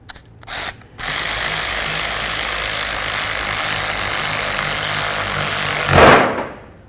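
Power tool, likely an impact gun, snugging brake caliper bolts on a 2007–2012 Nissan Altima's rear brakes: a short burst, then a continuous loud whirring rattle for about five seconds, close up.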